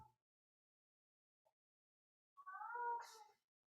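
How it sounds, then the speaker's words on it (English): A cat outdoors makes a single odd, strained yowl lasting about a second, faint and somewhat distant against near silence, with a soft sneeze-like burst at its end. "Oh, we have a cat making a weird noise outside."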